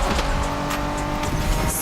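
Honda NSX, a 1990s Japanese sports car, driven in The Crew Motorfest racing game: a loud, steady engine roar with tire noise throughout, no talking.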